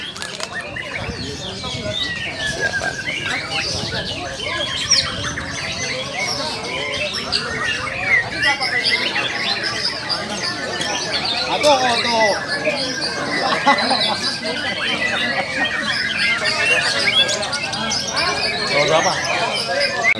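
Murai batu (white-rumped shama) songbirds singing at a bird contest, with many busy chirps, trills and whistles layered together over continuous crowd chatter and nearby voices talking throughout.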